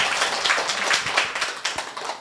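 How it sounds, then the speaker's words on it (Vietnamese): A short burst of clapping from the audience at a Buddhist Dharma talk. The claps are sparse and uneven, fairly close, and no one speaks over them. "cho tràng pháo tay thật lớn nha thầy"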